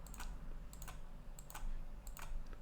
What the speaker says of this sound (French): Je vais rester appuyé sur la touche majuscule de mon clavier et je vais faire des clics sur mes calques en dessous.